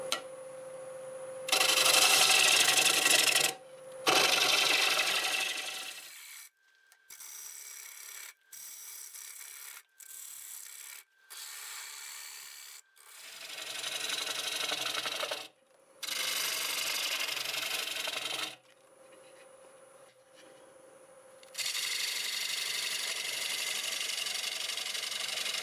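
Black walnut turning on a wood lathe at about 750 RPM, with the motor hum and loud rasping bursts of the tool cutting bowl walls, broken by short pauses where the hum continues quietly.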